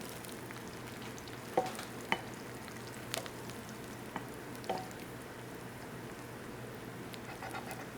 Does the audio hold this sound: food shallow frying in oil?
yes